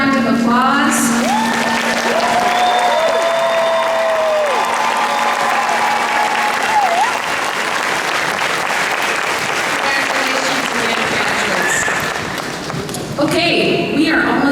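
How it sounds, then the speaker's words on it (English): An audience at a university hooding ceremony applauds in a sustained, dense burst of clapping that runs nearly the whole time, briefly thins near the end, then swells again, with a voice heard over the start. "Let's give another round of applause."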